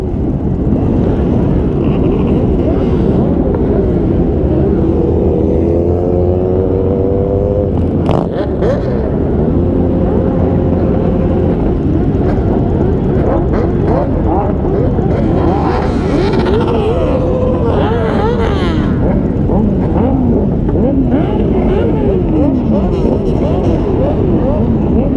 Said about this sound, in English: Just letting some of these bikes go before I get on there.